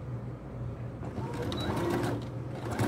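A sewing machine stitches a safety seam on fabric for a triangular zip pouch, a rapid, steady mechanical whirr up close with brief pauses and restarts.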